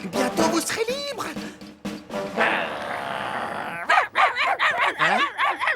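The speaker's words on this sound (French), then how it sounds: "c'est sur moi que vous aboyez là, alors que je fais tout pour vous libérer" A dog barks and yips repeatedly during a puppet show, loud and close, with bursts mixed among voices that talk over and between the barks.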